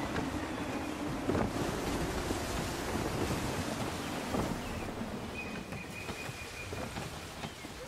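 Sailing ship on a windy sea in Assassin's Creed III, with steady broadband wind and water rush throughout, waves washing against the hull and occasional creaks and thumps, heard alone without voices.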